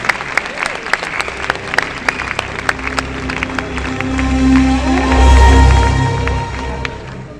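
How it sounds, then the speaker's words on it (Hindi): Hall audience at a community program gives a loud welcome, starting with sharp scattered claps and swelling into dense, rumbling applause that peaks before easing slightly, with a voice speaking over the start. "जोरदार तालियों से स्वागत कीजिए करण सिंह जी का"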